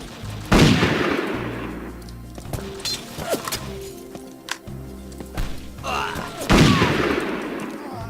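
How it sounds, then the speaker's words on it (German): Gunfire in the World War II shooter game Übersoldier, with two loud, close booming shots several seconds apart, interspersed with scattered lighter shots and impacts over a low in-game background. "Wer zur Hölle schießt da?"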